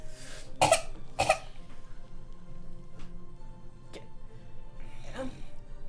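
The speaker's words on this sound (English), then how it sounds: "you hear a cough from underneath" Two sharp coughs close together, then a fainter cough and a soft throat sound, with quiet background in between.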